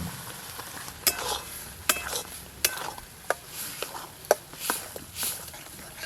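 Ridge gourd and prawn paste fry in a pan while a utensil stirs, with a soft sizzle under a series of sharp scraping clinks against the metal.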